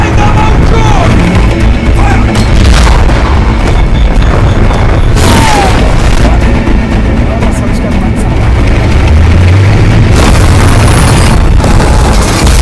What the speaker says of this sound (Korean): 폭발음을 들은 니콜라이는 건물 벽을 뚫고 나가며